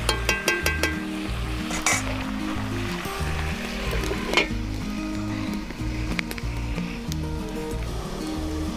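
Chicken kosha sizzles and fries in a pan while being stirred, a steady close crackle with spoon scrapes and clinks, including a quick burst of taps at the start.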